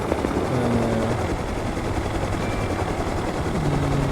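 An aircraft flies steadily in the survival game Rust, its engine and rotor drone running close and unbroken throughout, with a low humming pitch that shifts slightly and no voices over it.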